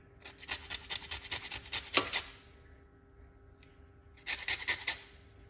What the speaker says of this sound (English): Just zest it a little bit.